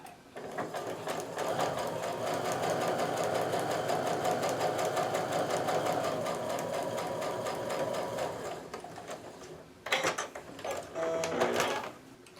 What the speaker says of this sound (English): letting the feed dogs do their job and pull that through the sewing machine at the correct pace